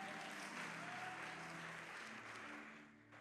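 A church congregation applauding during a worship service, a sustained dense wash of clapping from many hands that fades slightly at the end.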